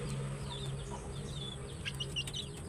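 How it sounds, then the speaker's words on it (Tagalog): Chickens cluck and chirp in a steady low outdoor background, the calls soft and fairly distant, with no one speaking. "Ay, yung mga manok ko ba?"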